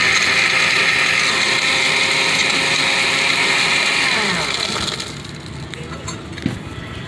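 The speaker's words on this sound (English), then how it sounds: "We hit the blend button for about 10 seconds." A countertop blender whirs loudly and steadily as it blends a drink, then the motor winds down after about five seconds, leaving faint rattling and clatter.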